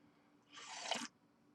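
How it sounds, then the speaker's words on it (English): A single short slurp of hot coffee, close to the mic, lasting about half a second and alone, with quiet surroundings before and after. "Slurping on my coffee."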